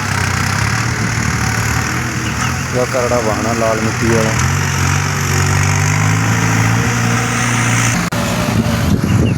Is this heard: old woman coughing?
no